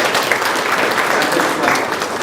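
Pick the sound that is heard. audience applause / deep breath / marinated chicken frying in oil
audience applause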